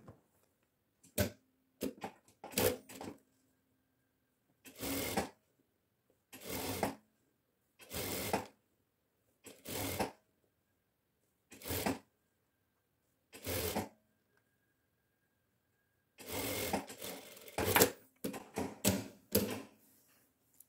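A sewing machine hems a narrow strip on the collar of a shirt dress in a series of short, quiet bursts, each lasting about a second, with silent gaps between them.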